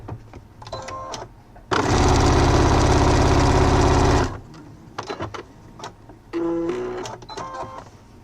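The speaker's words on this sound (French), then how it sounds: "je vais coudre donc une ligne le long de ce repère que je viens de faire" Sewing machine stitching a line along a marked guide on fabric for a multi-pocket wallet, a steady mechanical whir of about two and a half seconds, with quieter handling clicks and a short burst of rustling afterward.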